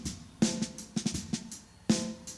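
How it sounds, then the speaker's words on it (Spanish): A cleanly tuned snare drum in a mix, with its 639 Hz head resonance cut, hit a handful of times at an uneven pace, each crack short and bright with a tight low body, heard alone. "Suena mucho más limpia la tarola."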